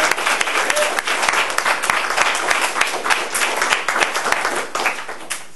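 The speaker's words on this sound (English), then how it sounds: "let's give him a round of applause." An audience at a university computer science colloquium breaks into a loud, sustained round of applause, dense overlapping claps heard close and alone.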